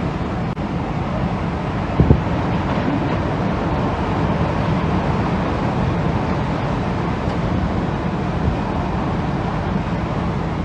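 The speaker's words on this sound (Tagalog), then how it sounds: "Ang lakas po ng hangin, sobra." Strong, steady roaring typhoon wind from Typhoon Ulysses fills the whole stretch, a dense broadband rush with a brief knock near the start.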